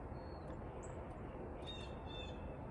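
Blackbirds (grackles) and other backyard birds call faintly on a chilly late-November morning, a few thin chirps and squawks floating above a steady, loud wash of wind or traffic noise.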